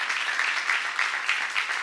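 A church congregation claps in a large hall, a steady, moderately loud wash of applause that swells slightly in rhythmic waves.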